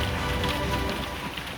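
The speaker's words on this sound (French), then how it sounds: "Et une terrible tempête de grêle s'abattit sur les Cananéens." A terrible hailstorm pours down as a sound effect, a dense continuous patter of countless small impacts over a steady hiss, loud and unbroken.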